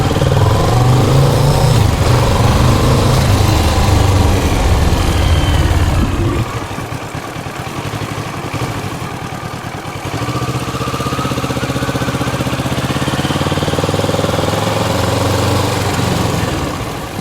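A motorcycle engine runs steadily and loudly close by during a riding drill on a training course, dipping briefly to a lower, idle-like drone before rising again.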